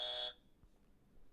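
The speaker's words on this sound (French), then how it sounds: "Ah oui, il faut buzzer." A quiz game buzzer sounds once in a steady, loud electronic tone lasting about a third of a second, then cuts off, leaving a quiet room with faint background noise.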